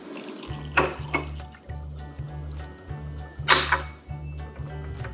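A spoon stirs baking soda and water in a cup, giving sharp clinks and scraping taps at irregular intervals over a low steady hum, close and fairly quiet.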